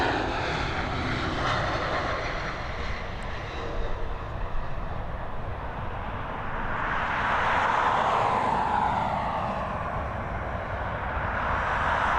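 Airliner touching down on the arrivals runway at Dublin Airport, a steady loud roar of engines and rushing air that swells and shifts in pitch as the aircraft passes close by, with no voices.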